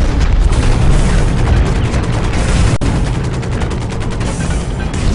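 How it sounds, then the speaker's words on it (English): Grenade blast and gunfire in the mech shooter game Hawken, a dense, loud wall of booming and rattling fire with one sharp crack partway through, continuous throughout. "Threw a little grenade thing."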